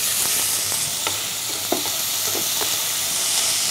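Steady frying sizzle of BBQ-sauced honey chicken wings in a pan, with scattered scraping clicks of a spoon stirring them, close and loud throughout with no voices.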